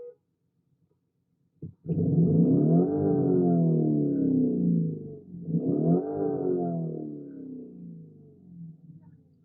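A car engine revs loudly and close by in two long surges, each climbing then easing back toward idle, with a short sharp knock just before the first rise and no talking.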